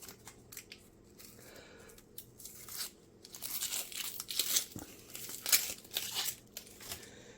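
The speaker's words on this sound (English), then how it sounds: "Our next thing is an onion. Like so. Take that peeling off." Papery outer skin being peeled off an onion for smoked cowboy beans, soft dry crinkling and tearing that starts faint and grows louder and busier in the second half, close by with no talk.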